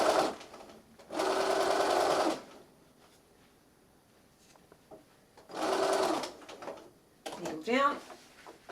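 Sewing machine stitching the seam of a plush bunny, two close bursts of rapid mechanical whirring separated by a quiet pause, with a voice speaking briefly near the end.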